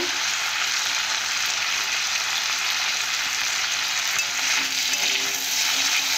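Malabar spinach curry frying in a pan with turmeric and chili powder, a constant loud hissing sizzle that holds steady throughout, with faint stirring underneath and no talk.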